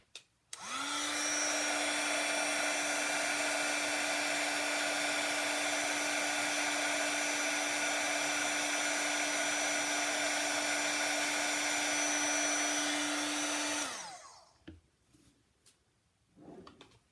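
A heat embossing tool blows hot air over embossing powder on a handmade card, a steady, loud whirring hiss with a faint high whine that runs unbroken for about thirteen seconds, then cuts off, leaving small handling noises.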